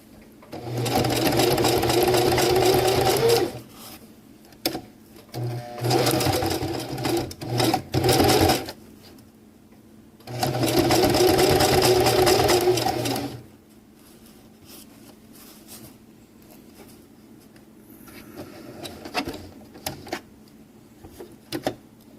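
Sewing machine stitching a PALS/MOLLE webbing accessory pouch, running in several loud bursts of a few seconds each, separated by pauses filled with quiet handling noise.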